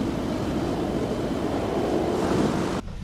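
Steady roaring wind at minus 20 Celsius on a ski slope buffets the microphone with a dense, rushing noise that cuts off abruptly near the end.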